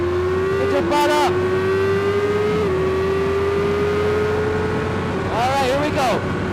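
Kawasaki Ninja 400 race bike engine droning loud and steady on track, with two quick rev blips as it drops gears, close-miked under a rider talking.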